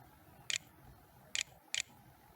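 Mouse clicks while typing on an on-screen virtual keyboard: three short, crisp clicks spaced unevenly, close and quiet against a faint background hum, with no voices.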